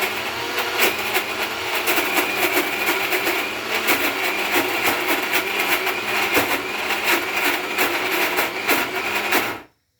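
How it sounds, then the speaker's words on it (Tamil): Mixer grinder blending chutney with a little water in its jar, a loud steady whirring grind with rattling pulses that runs continuously before cutting off abruptly near the end. "சட்னி ஜாரில் ஆட்டிட்டு காமிக்கிறேன்"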